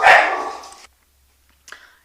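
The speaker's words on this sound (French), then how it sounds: "il a fallu que je fasse taire les toutous" Dogs barking nearby in a home: a loud burst of several overlapping barks lasting most of a second, then silence, then one shorter, fainter bark.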